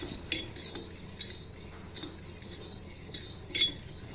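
Butter and Boost malt powder being stirred in a pan over a low gas flame, with repeated spoon scrapes and light metallic clinks over a soft background sizzle.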